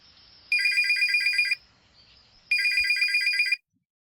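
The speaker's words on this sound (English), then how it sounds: "awakened by that phone call from his brother" Telephone ringing in two loud electronic bursts, each about a second long with a short pause between, then silence.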